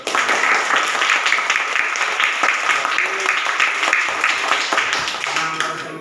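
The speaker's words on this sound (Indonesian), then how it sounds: "kita beri tepuk tangan untuk Bapak" Classroom applause for a guest teacher visiting a fourth-grade class, a steady burst of clapping from many children lasting several seconds, loud and close with some voices mixed in.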